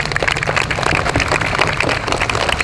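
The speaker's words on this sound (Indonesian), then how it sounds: "Tepuk tangan." Students at an outdoor Santri Day ceremony at an Islamic school clap together. The clapping is loud and close, a dense burst of many hands that runs steadily for a few seconds with no talking.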